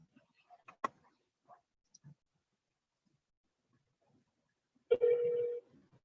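A telephone on a call gives a few scattered dialing clicks and beeps, then a single short ring tone near the end, faint in a quiet room.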